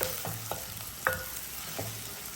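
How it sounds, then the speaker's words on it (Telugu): Onion pieces fry in a pan for an okra curry, a close, steady sizzle broken by four or five clear stirring scrapes and clinks of a spoon against the pan. "ఉల్లిపాయ ముక్కలు అయితే చూడండి మీకు అంత ఎర్రగా బాగా దోరగా వేగాయి"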